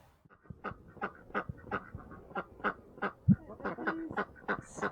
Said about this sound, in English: We've got a little flock of ducks, and they eat the weeds and eat the pests and fertilise the trees.